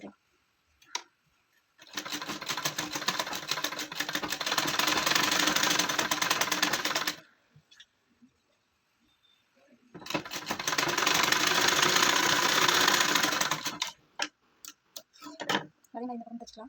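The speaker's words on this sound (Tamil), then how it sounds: "அதே மாதிரி இந்த பக்கம் தைச்சிக்கலாம்" A sewing machine stitches a child's gown in two long continuous runs of rapid, even ticking and whirring, each several seconds long, separated by a quiet pause and followed by a few scattered clicks and handling noises.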